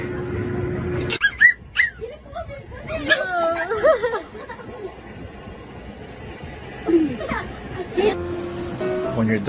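A dog whimpers and yips in high, wavering cries while eating sushi off chopsticks, close and repeated, mixed with people talking and laughing nearby.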